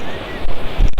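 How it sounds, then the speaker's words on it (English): Fast-flowing water rushes loudly close by in a natural setting, a continuous roar with gusty wind buffeting the microphone and a few heavier surges. "the water is flowing with high speed"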